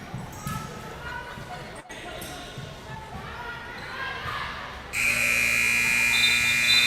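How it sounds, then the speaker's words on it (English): A long electronic final buzzer sounds at the end of a futsal match, a loud steady tone cutting in near the end over arena noise and faint ball bounces. "there is the final buzzer and whistle here in NFPL action on opening weekend"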